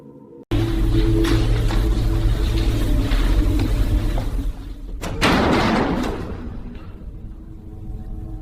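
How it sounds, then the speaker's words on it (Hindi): A heavy door slams shut in an old haunted mansion at night, a horror sound effect: one sudden loud bang followed by a sustained low, booming rumble that swells again midway and slowly fades. "दरवाजा जोर से बंद हो गया।"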